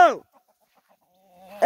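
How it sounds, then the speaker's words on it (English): Chickens fighting on a homestead, with a short loud cluck at the start, near-silence, then another burst of clucking at the end. "Them chickens are fighting."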